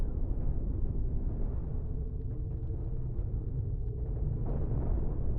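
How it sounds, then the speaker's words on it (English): Cannon fire in the space combat game Cosmoteer during a PvP tournament match, a steady low rumbling barrage of booms throughout, fairly loud and dense with no talk. "Oh, actual cannon fire."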